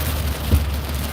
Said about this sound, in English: I'm in pouring rain.